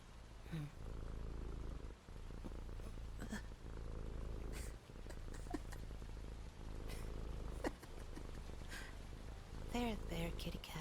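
A kitten purrs steadily at close range, a low continuous rumble running under a man's quiet, gentle speech with a soft musical background.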